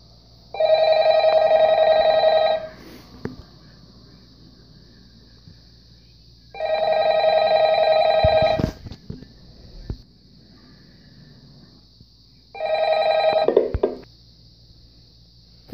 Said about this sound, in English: Okay, phone, pick up.